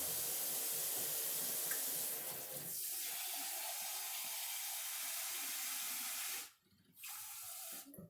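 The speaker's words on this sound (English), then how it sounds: "At this point, you're going to put in I would put in 2 cups of water." Two cups of warm water poured into a pot for figgy pudding: a steady hissing splash that shifts in tone as the pot fills, briefly stops, then resumes for a moment.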